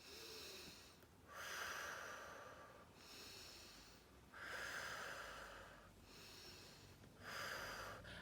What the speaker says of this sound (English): every time you go up, breathe in through your nose